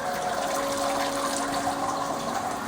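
Liquid drains steadily from a home brewing system, a Braumeister or Grainfather, in a continuous gushing, trickling flow with a faint steady tone, close and alone without talk.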